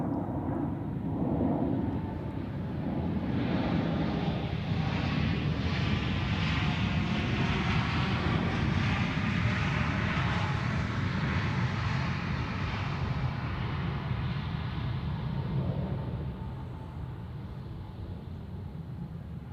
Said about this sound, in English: the next landing, better say, a Swiss A220 from Hanover in Germany